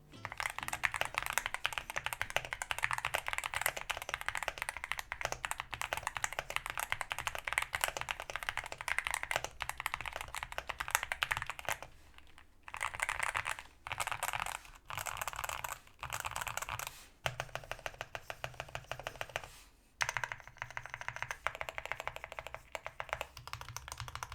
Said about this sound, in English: Here is a typing test with this keyboard.